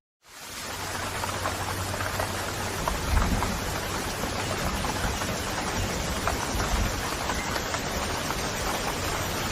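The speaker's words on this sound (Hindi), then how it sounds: "बहुत बारिश हो रही है।" Heavy rain pours steadily and loudly, a dense unbroken hiss with a low rumble, no voices.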